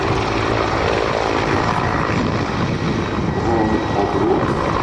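A Mi-24 military attack helicopter flies over the Aerobaltic 2021 air show in Gdynia, its heavy rotor and engine roar loud and continuous throughout, with no voices.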